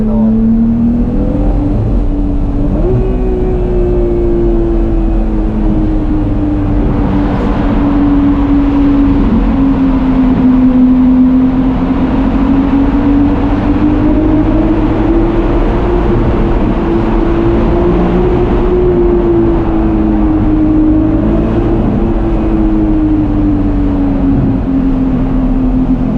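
Ferrari 296 GTS driving on Tokyo's Shuto Expressway, a steady loud engine drone with a sustained tonal hum that rises and falls slightly with speed, heard from inside the cabin with constant road noise and no talk.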